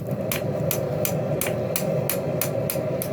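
Hammer striking a 5160 steel spear point belt knife blank at the forge while drawing out a full-tang handle: eight evenly spaced ringing blows about three per second over a steady low forge roar, no voices.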